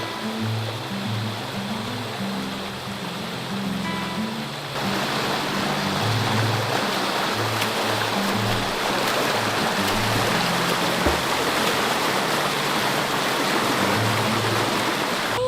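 Creek water rushes and splashes steadily, a broad continuous wash that grows louder and fuller partway through, with a low rumbling hum underneath and no voices.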